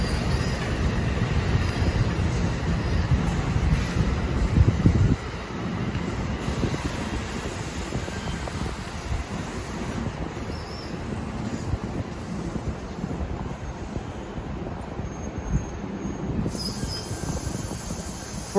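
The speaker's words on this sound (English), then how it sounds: "that was train 3856 from Trenton, New York arriving" Train 3856 from Trenton arrives at a station, a long, steady rolling rumble heard from the platform. It is louder for the first few seconds, then continues softer, with faint wheel noise and wind.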